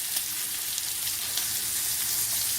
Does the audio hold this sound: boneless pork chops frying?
yes